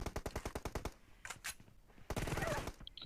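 Rapid automatic gunfire in the mobile game PUBG Mobile, a fast even burst of about a dozen shots followed by a few scattered louder cracks and a final spray of fire, close and loud.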